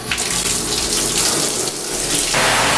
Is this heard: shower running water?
yes